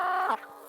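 A single short cluck from a hen among a flock of 325 laying hens kept in a mobile henhouse on fresh grass, close and fairly quiet.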